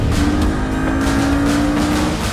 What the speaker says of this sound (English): the sound is more intense, sportier, racier, and the backfire is also a lot more noticeable